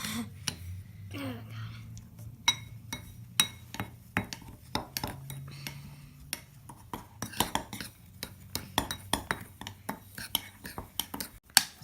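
Bath bomb mixture being stirred in a bowl after drops of blue food coloring, with scraping and light clinking taps of a utensil recurring irregularly and fairly close, alone without speech.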